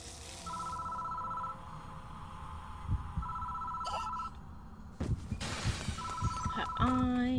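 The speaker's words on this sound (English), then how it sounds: "Phone rings again." Telephone ringing in the Death Mark video game: three separate bursts of a steady electronic ring, each about a second long, over a low throbbing heartbeat-like pulse and dark ambient hum.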